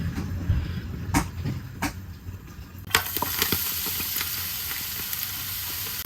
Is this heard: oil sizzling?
yes